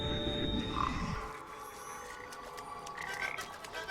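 Frogs croaking in the Papo & Yo game world, a low rolling croak up close at first, then thinner calls and chirps spread across a quiet, ambient background.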